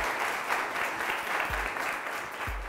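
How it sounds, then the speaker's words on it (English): An audience at a college quiz contest applauds the teams, a steady wash of clapping with a couple of low thumps in the room. "Loud round of applause, firstly,"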